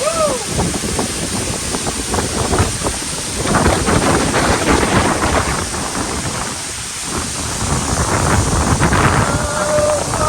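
Strong wind buffets the microphone during a ride to Phungphung waterfall in Taplejung, Nepal, a loud continuous roar that surges and eases for the whole stretch.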